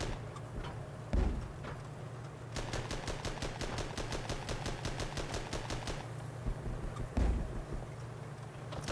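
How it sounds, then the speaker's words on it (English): A tank's 3-pounder gun fires in Armored Battle Crew, giving two heavy, deep thumps several seconds apart. Between them, a long rattling burst of rapid machine-gun fire carries over a steady engine drone. "our 3-pounder is already engaging the target"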